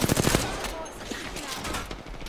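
Rapid bursts of Apex Legends gunfire crack loudly up front at the start, then give way to scattered shots and ongoing in-game effects, with a faint voice in the mix.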